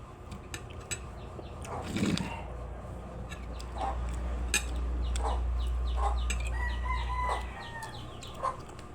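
Chickens cluck around a farmyard cooking spot, with a rooster crowing; the calls come in scattered bursts over a steady low rumble, fairly close but moderate in level.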